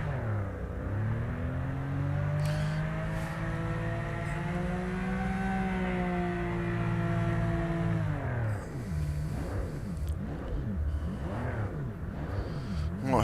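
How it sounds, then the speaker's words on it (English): Porsche race car engines in Project Motor Racing, a loud sustained high-revving whine that climbs and holds, then drops into repeated rising and falling rev surges as gears shift, with no voices. "I do like the sound of the engines."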